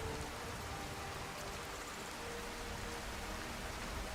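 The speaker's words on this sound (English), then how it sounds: "God, it's raining something harsh." Heavy rainstorm weather in a modded Skyrim game, a dense, even hiss of pouring rain that holds steady throughout, with no voices.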